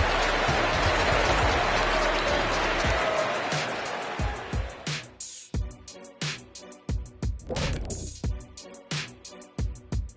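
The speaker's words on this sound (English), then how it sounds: "there's no let up in these fans, loyal and loud" A crowd roars in an NBA 2K24 basketball arena, loud and dense cheering that fades, giving way to repeated sharp thuds and bursts of applause.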